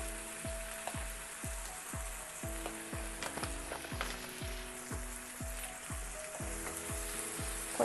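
Chopped cluster beans fry in a pan, giving a steady close sizzle and crackle with regular rhythmic clicks throughout and no talking.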